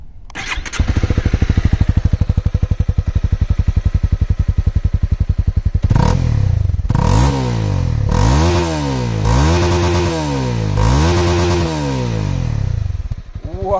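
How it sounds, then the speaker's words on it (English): A 2022 Honda CB300R motorcycle starts up and idles with a rapid, even exhaust pulse, then is revved several times in rising and falling bursts, close and loud with no talking. "So now let's listen to the exhaust note of this motorcycle."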